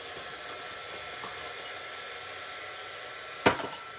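A heat gun for heat embossing runs with a steady, even whir throughout, with a single sharp click partway through.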